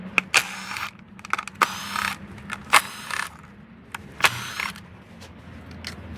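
A ratchet clicks in quick bursts while loosening the 10 mm coil pack bolts on a Honda Accord 2.4L K24W engine, with sharp, close ratcheting and creaking separated by short pauses.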